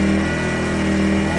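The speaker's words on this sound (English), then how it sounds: "As you can hear, it ramps up quite a bit. Very quiet." An ERAYAK 2400W portable inverter generator hums loudly and steadily as its engine holds a raised speed, with a constant droning tone and no talking.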